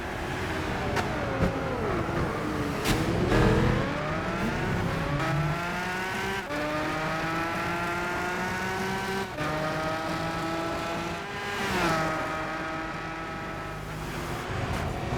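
An Audi race car in the Gran Turismo 6 racing game revs hard through gears, with rising and falling engine whine, gear-change dips and brief tire noise, loud and continuous without speech.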